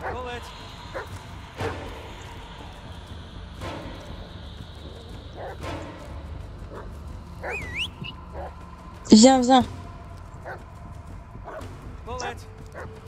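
In the Blair Witch video game, a dog barks and whimpers, giving short yips and whines with one louder burst near the middle, while someone speaks French over scattered game sounds.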